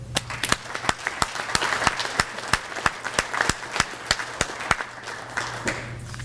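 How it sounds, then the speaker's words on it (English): At a Veterans Day breakfast, a small audience claps for veterans: a run of about twenty distinct, evenly spaced claps that sound close and sharp over soft room noise, with little background chatter. "Can we get a round of applause?"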